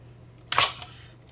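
Inside a Kiev Salyut-S medium-format camera, gearing that fails to engage gives a brief, sharp mechanical grinding whir of about half a second, with a faint tick just after, heard close up in a quiet room.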